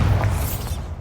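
A Bombarda spell explosion in Hogwarts Legacy: a short, deep, rumbling blast that fades within about a second, with no voices.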